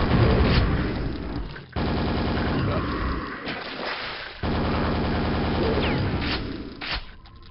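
Enemies bombarding the player in the video game Quake: loud bursts of rapid gunfire and booming blasts in two long volleys, separated by brief drops in level.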